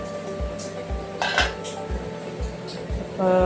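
Clinking metal kitchenware: a lid clatters onto a cooking pot of frying masala with a bright ring, amid a steady low rhythmic thump and background hum, close and fairly loud.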